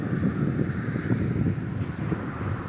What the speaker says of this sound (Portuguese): Desculpa a ventania aí, né, pessoal?